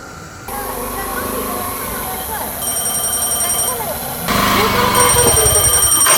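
A phone ringtone chirps repeatedly, loud and close, while people talk over it and a low engine-like hum runs underneath.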